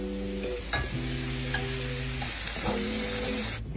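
Marinated shrimp sizzle in butter in a pan with a constant hiss. A few light clicks from stirring sound over a low steady hum, and nobody speaks.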